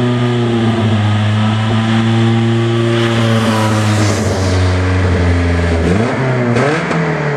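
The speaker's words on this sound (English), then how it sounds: "Let's give her a little rev." Nissan S13 240SX engine, running without heat after a water pump and thermostat replacement, held at a loud steady idle-to-rev drone close by, with pitch rising and dipping in a couple of blips toward the end.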